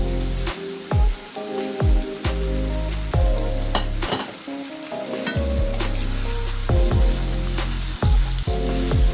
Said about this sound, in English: Then I'll add my korokiti courgette.